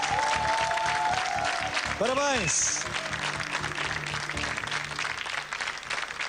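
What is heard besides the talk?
audience applause for quiz finalists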